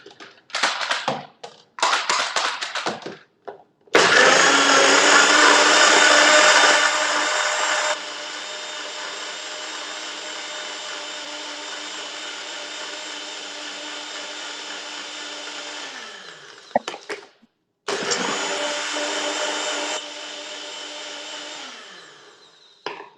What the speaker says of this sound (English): I'm just going to add it to the blender now. So it's going to be a bit loud